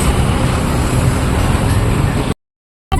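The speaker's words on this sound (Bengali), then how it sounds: "আমরা বাসে উঠে গেছি এখন" Bus and road traffic on the way to Mandarmani: a steady, loud broadband rumble of engine and road noise fills the first two seconds, then cuts to a brief silence before resuming.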